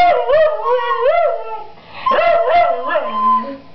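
Snoopy the dog howls in long, wavering, mournful tones close by, two drawn-out howl phrases with rising and falling pitch separated by a brief pause, loud and clear with no talk over it.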